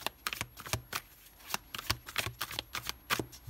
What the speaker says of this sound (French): Allez, on va poser les 6 cartes.